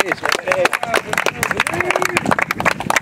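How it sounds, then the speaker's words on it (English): Scattered hand clapping from a small gathering at a disc golf tournament, brisk and fairly close, with some voices mixed in. "Let's give everybody a Vinny round of applause"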